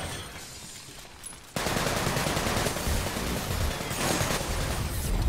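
AK rifle fire in the video game Sunset Overdrive: after a quieter opening with a faint thump, a dense burst of rapid automatic gunfire erupts and continues loud and unbroken to the end.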